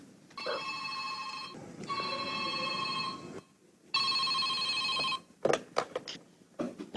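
An old-style telephone rings on the line in a radio drama, three long electric bursts with pauses between, followed by a few short clicks and tones.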